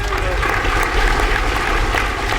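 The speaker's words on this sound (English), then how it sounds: "So if we can have a wonderful round of applause for both Dylan and Will" Audience applause at a senior concert, a dense, loud burst of crowd clapping that stays close and steady through the short stretch with a low rumble underneath.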